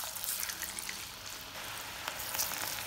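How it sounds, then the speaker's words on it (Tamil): Cauliflower pieces for chilli 65 deep frying in hot oil, giving a close, steady, dense sizzle with constant crackling pops throughout and no talking. "எண்ணெயில் பொறிச்சு எடுத்துக்கலாம்"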